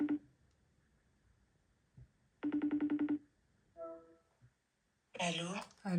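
A phone call rings out in a short pulsed burst of beeps, followed by a brief tonal chirp, with quiet pauses between and a voice speaking at the end.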